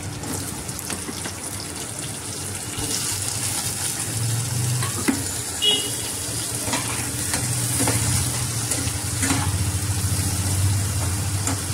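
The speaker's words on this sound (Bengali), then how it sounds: "এবার আমি আলু পেঁপেটা এর মধ্যে দিয়ে দেবো" Potato and papaya frying with onions in a pan for a soyabean dish, giving a continuous close sizzle that grows louder midway, with occasional scraping stirs and clinks throughout.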